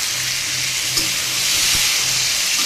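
Ridge gourd frying in a pan for a Bengali hilsa curry, a steady close sizzle with occasional clinks and scrapes of stirring, no talk.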